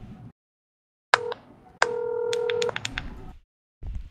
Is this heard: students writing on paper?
no